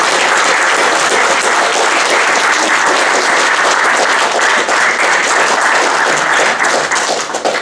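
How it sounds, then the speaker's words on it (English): Sustained, loud applause from an audience at a student presentation evening, dense steady clapping from many hands that carries on without a break and eases slightly at the very end. "Can I have a big, hearty round of applause for the stars of the show?"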